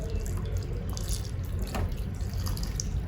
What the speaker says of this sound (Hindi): मैं डालूंगी थोड़ा सा गर्म पानी।